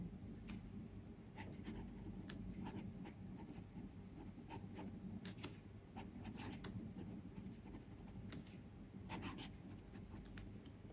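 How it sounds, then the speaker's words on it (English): A Sailor 1911 Large demonstrator fountain pen writes in reverse on paper, giving a soft, continuous, faint scratching with a few brief sharper ticks, very close and quiet, with no one speaking. "Reverse writing,"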